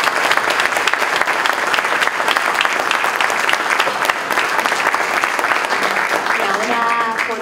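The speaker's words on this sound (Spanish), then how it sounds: "ahora sí les pido un aplauso para ella, por favor" Sustained applause from a book-launch audience, dense steady clapping filling the room at even loudness throughout, with faint voices beneath.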